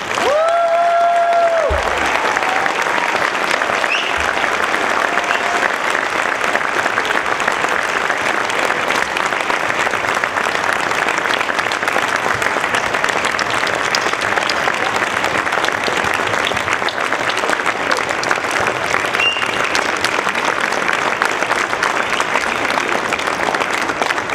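Sustained audience applause for new National Honor Society inductees at an induction ceremony, a loud, steady wash of many hands clapping without pause for the whole stretch.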